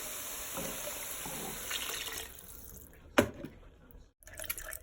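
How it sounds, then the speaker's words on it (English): Water poured into a vat of creamy carrot soup, a steady splashing trickle under light kitchen noise before a brief sharp clink and a quieter tail. "next is water and chicken broth"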